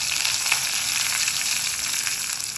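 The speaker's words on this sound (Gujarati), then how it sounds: "વઘાર બહુ મસ્ત આવી ગયો છે" Mustard seeds, hing and chopped curry leaves, with sesame seeds, crackle in hot tempering oil, a loud close continuous sizzle with scattered sharp pops and no voices.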